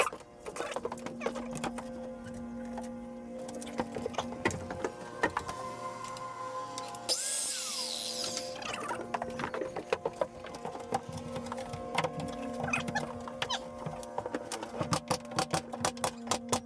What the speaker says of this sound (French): Allez, je m'en vais découper cette planche.